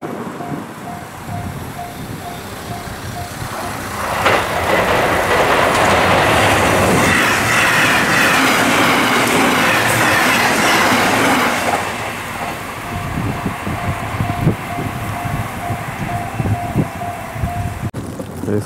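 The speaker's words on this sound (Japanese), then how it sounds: "ソニックが通過するからソニックの通過シーンも撮りたいんだよな" A Sonic limited express train passing on the Nippo Main Line beside a hot-spring inn at Kamegawa, Beppu: a steady rumble that swells to a loud roaring pass with clattering wheels, then fades into low rail noise.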